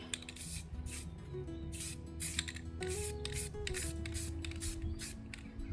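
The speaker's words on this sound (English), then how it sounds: "The cardboard is keeping you from spraying on things you don't want to spray on." Spray paint hissing from an aerosol can onto metal in repeated bursts, several short sprays with brief pauses, close and steady, over a low background hum.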